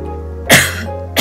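Two coughs from a woman with allergies, the first a harsh burst near the middle and the second a short start at the very end, loud and close over a faint steady hum.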